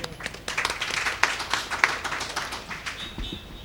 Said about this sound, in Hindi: एक बार जोरदार तालियां जमील भाई के लिए हो जाए।